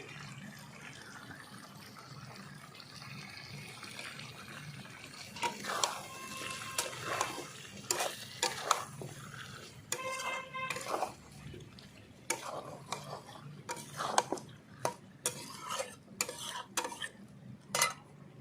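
A spoon stirs fried potatoes into chicken curry in a cooking pan, with soft scraping and intermittent metallic clinks and taps against the pan, close and moderately loud, after a quieter opening stretch.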